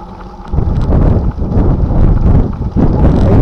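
Heavy wind buffets a camera microphone outdoors, a loud, continuous low roar with gusty surges and brief dips, and no voice over it.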